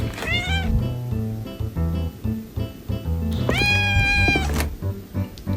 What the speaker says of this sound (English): I'll play a clip of his meows right now.